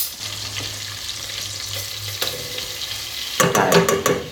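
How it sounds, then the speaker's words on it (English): Food sizzles steadily in a pan, a constant hiss with occasional scrapes, then a louder burst of crackling and spattering near the end. "It's sizzling."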